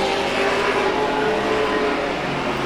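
Sportsman class race cars roaring around a track, a loud, continuous engine drone that holds steady without a break.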